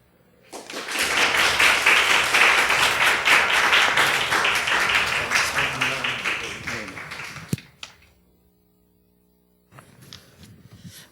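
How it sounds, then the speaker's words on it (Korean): Church congregation breaks into loud, sustained clapping that rings for several seconds, tapers off into silence, then faint movement returns near the end. "여러분 목사님 나오실 때 우리 큰 박수로 맞이해 주시기 바랍니다."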